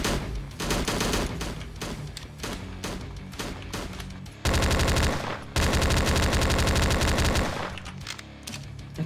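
Rapid automatic gunfire from the video game Slendytubbies 3, loud and near, in dense sustained bursts with a short pause before the shooting resumes.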